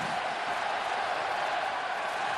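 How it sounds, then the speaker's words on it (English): Steady crowd roar filling an ice hockey arena during an NHL playoff game between the Philadelphia Flyers and Pittsburgh Penguins, a continuous dense wash of cheering with no breaks. "Crowd fully involved in this one"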